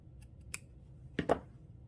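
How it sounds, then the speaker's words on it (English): Scissors trim the edge of quilt binding fabric, with a light snip followed by two quick, close cuts in a quiet room. "I'm going to trim it at the edge here"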